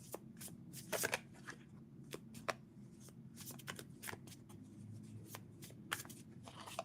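Tarot cards are shuffled by hand during a live reading, with repeated crisp riffling bursts and soft slaps at irregular intervals, close and quiet against faint background hum.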